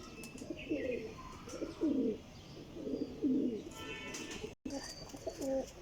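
Teddy pigeons give repeated rolling coos in four or five distinct phrases, fairly close and moderately loud, with brief gaps and a sudden dropout partway through.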